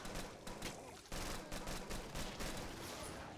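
Rapid gunfire in the video game Killing Floor: loud bursts of automatic shots crackling in quick succession, with a brief pause near the middle before the firing resumes.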